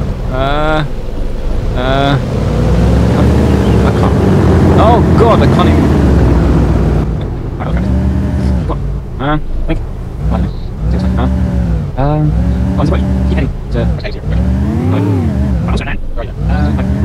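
Car engine driving in a video game, with a steady rising and falling engine drone and revving. Someone talks and laughs over it throughout.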